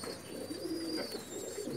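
A Lal Pari breed pigeon coos close by in a soft, low, rolling call with a short second phrase, over a faint high background whine and no voices.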